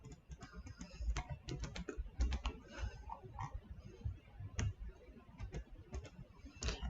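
A computer mouse gives quick, close, irregular clicks in short bursts and scattered single taps, fairly faint, with no talk.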